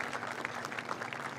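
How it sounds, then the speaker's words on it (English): An outdoor audience at the Intel groundbreaking ceremony in New Albany, Ohio applauds the groundbreaking crew, a brief burst of scattered, moderately faint clapping with individual hand claps distinguishable. "Give our groundbreaking crew a round of applause for this historic moment today."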